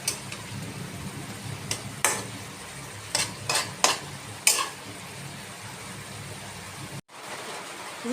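Rohu fish being stirred and coated with spice paste for a Bengali oil-chilli curry, giving a steady low sizzle with several sharp scrapes and clinks of utensil against pan, then a sudden brief cutoff near the end.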